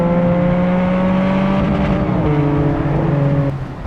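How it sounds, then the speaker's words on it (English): A Porsche 718 Boxster GTS 4.0 with a naturally aspirated flat-six engine, heard up close and loud holding a steady, howling rev before shifting pitch and easing off near the end, with no talk. "it's got a gorgeous, howling, naturally aspirated flat six that sounds like this"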